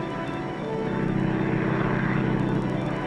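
A propeller airplane flies overhead with a steady, droning engine roar that swells slightly and holds loud throughout.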